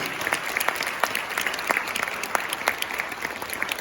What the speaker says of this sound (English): let's give a big round of applause for Mandy Leach